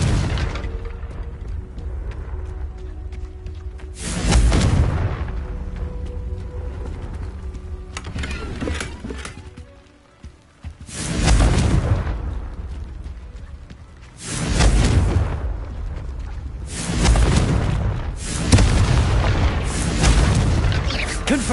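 Confringo blasting spells in Hogwarts Legacy erupt as deep, booming explosions, several loud bursts spaced a few seconds apart over a constant low game rumble and music.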